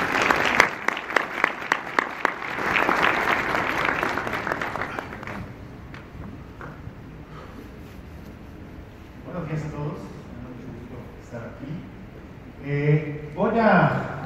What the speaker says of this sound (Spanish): les pido un cariñoso aplauso